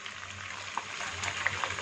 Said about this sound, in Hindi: तकरीबन 10 से 15 मिनट हो चुके हैं चिकन को भूनते हुए।